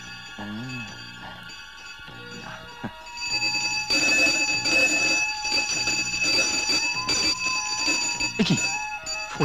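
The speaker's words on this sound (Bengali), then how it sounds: "হঠাৎ ঘন্টাটা দমকলের মতো বাড়ি দিল কেন বলো তো?" A bell rings loudly and insistently like a fire brigade bell, a sustained metallic ringing that swells after a quieter start, with brief voices in the opening seconds.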